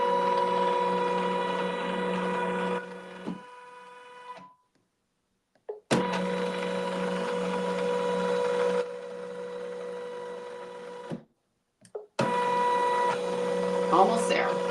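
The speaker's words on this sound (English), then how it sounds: "the machine, of course, does that for you since it is an embroidery design" A computerized embroidery machine stitches out a satin stitch quilting design, running in steady mechanical bursts with short pauses between steps, close and fairly loud.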